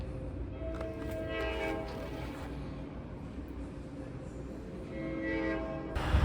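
An Amtrak California train from Martinez toward Bakersfield rumbles steadily along, with a horn sounding in the distance over the continuous low rolling noise of the cars.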